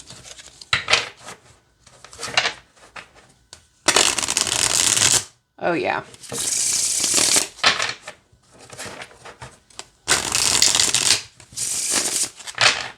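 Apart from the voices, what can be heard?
shuffling a deck of cards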